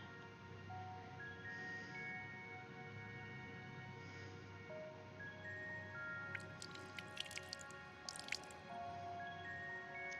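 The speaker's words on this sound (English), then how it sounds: "I just made the sound of water" Faint drips and small water splashes from Final Fantasy XIV arrive in a short cluster midway, sitting over a steady, quiet bed of game music.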